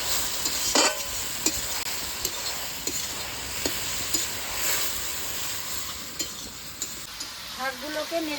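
Jute leaves sprinkled with salt and stirred in a frying pan, a continuous hissing sizzle broken by repeated scraping strokes of a spatula against the pan, fairly close.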